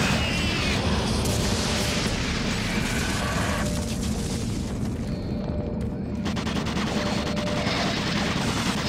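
Automated turret guns in Doom 3 BFG blast continuously in a dense, loud stream of rapid gunfire with booming mechanical clatter, unbroken for the whole stretch.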